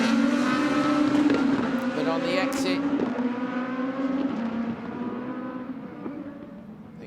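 Super1600 rallycross race cars at Barcelona racing past, engines droning loudly with shifting pitch and gear changes that gradually recede, while a commentator talks over them.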